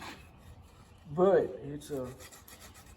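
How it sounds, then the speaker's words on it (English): Hand sanding wooden knife handle scales in a workshop, soft rhythmic rubbing strokes that are faint and close, with someone speaking briefly over them. "hand sanding these handle scales"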